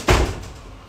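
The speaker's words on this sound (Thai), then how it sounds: "เดี๋ยวเปิดประตูให้เพื่อนอ่ะ" A door being opened nearby, a single short knock-like thud followed by a brief decaying rumble, alone with no talk.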